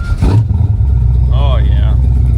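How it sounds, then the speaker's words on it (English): An old truck engine that had sat unused for a week idles in a low, steady rumble after starting, loud and close, with a person speaking briefly over it at the start. "Hopefully the truck starts."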